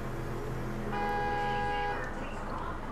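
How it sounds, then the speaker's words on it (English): A car horn honks in the online game APB Reloaded, one steady held blast about a second long, loud and close, sounding over continuous street and engine noise. "all of a sudden I hear a honk"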